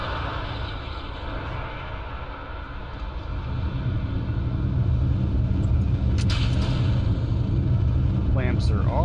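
Kerbal Space Program rocket lifting off at full throttle, a steady, loud low roar of engines that swells slightly partway through, with a brief crackle near the end.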